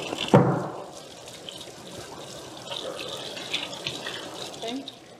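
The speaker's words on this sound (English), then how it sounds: "let me give my hands a good wash" Hands are rinsed under a running kitchen tap, a steady close stream of water splashing into a sink with a sharp splash near the start, set during cooking of local Turks and Caicos cuisine.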